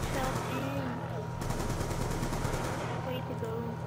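Rapid bursts of automatic fire from an AN assault rifle in the Buried map of a PS3 zombie shooter, crackling steadily for a few seconds over a dense, busy game background.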